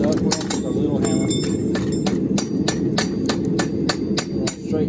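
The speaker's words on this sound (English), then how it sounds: "We're going to take a little hammer" A small hammer tapping bent expanded metal straight, a quick irregular series of about a dozen sharp, loud metallic strikes close by, with faint background noise between hits.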